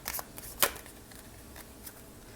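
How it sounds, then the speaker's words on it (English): A deck of tarot cards is shuffled up close: a few quick riffling bursts and one sharp snap of cards, then softer rustles, with no talking. "Wait, one more shuffle here."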